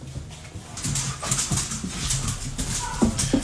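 Dogs whimper and fuss nearby while being let inside a house, with restless whines and scuffling in a fairly loud, busy stretch.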